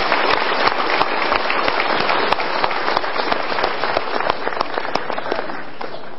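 Audience applause at a motivational talk show as a couple is invited onto the stage, a loud, continuous patter of many hands clapping with sharp individual claps popping out, holding steady throughout.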